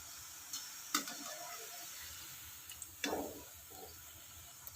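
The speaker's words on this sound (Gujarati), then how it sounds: "તેને આ રીતે આપણે એકાદ મિનિટ પહેલાં તો તળાવવા દઈશું અને પછી તેને આપણે ફેવરીશું" Gathiya dough strips fry in hot oil over a medium gas flame, giving a quiet steady sizzle with a few soft clicks and stirring knocks from a utensil.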